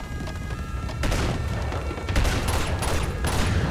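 Explosion in Uncharted 2: Among Thieves, heavy booming blasts and crackling debris filling the whole stretch, with surges of noise around the middle and near the end, loud and continuous with no voices.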